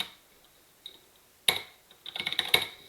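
Quick keystrokes on a computer keyboard entering a write-and-quit command in the vi editor: a few isolated taps, then a faster cluster of clicks, close and fairly quiet.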